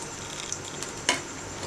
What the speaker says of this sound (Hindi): और पराठे को एक साइड से आप पकने दें।